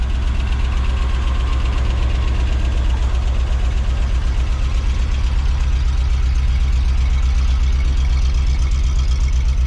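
Car engine idling steadily with a deep, even low rumble and a fast regular pulse from the exhaust, loud and close throughout with no talking.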